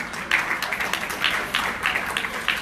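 Audience at the IRAWMA awards 2019 claps for the sound system Pink Panther, a thin scattered patter of hands rising and falling in small bursts, moderately distant and fairly faint.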